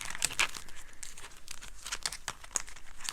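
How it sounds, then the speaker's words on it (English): A paper envelope is handled and torn open: a quick run of dry crinkling and rustling bursts, close and fairly quiet. "So we need to get out our envelope for this."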